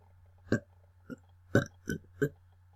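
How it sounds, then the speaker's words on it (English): Five short burps in quick succession, close and fairly loud, standing alone over a low steady hum. "I burped."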